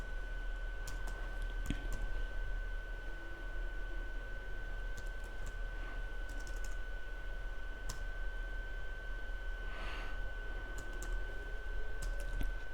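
An IP address typed on a computer keyboard during a Cisco Packet Tracer wireless network lab, a few sparse, soft key taps spread over a steady hum and faint background noise.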